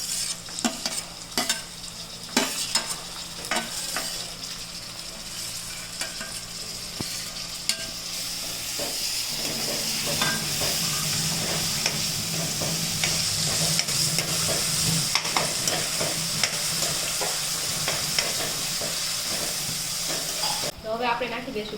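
Onions and tomatoes sizzling and frying in a pan for bateka pauva, with a steady hiss broken by scraping stirs and utensil clatter, louder once the tomatoes go in.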